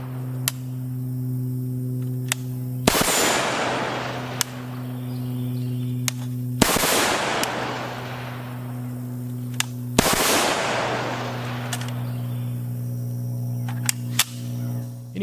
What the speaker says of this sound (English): Switching off the safety while swinging the rifle up from low ready and making double taps is incredibly easy